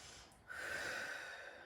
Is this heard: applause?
no